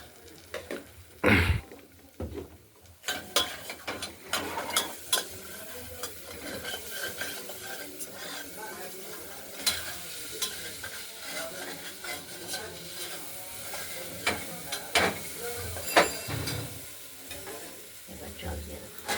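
Moong dal sautéing and frying in a pressure cooker with salt, turmeric and sugar, a close, continuous sizzle broken by repeated scraping and stirring clatter of a spoon against the metal pot.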